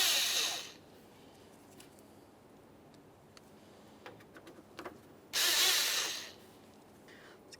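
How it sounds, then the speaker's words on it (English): A power drill drives Phillips head screws into the grille of a 1994-1997 Honda Accord. Two loud whirring bursts sit at the start and near the end, with quiet ticks and clicks of handling between them. "you can continue on to all 5 of your Phillips head screws making their way across"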